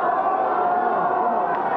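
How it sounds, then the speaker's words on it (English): A capacity wrestling arena crowd roars in a steady, dense wash of voices, chanting and jeering as Paul Orndorff heads to the ring, with no single voice standing out. "they're having quite a chant"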